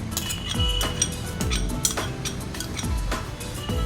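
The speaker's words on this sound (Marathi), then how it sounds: "कढईतलं तूप वितळलेलं आहे, त्याच्यावर एक मोठा वाडगा भरून हा कैरीचा किस घालते मी" Grated raw mango tips into melted ghee in a wok, followed by clinking and scraping of a metal spoon against the pan, a series of sharp clatters and taps with a low background hum.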